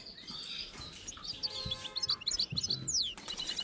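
A red mosaic canary gives faint, scattered high chirps, with soft bursts of wingbeats as it flies up, heard fairly far off over a quiet room.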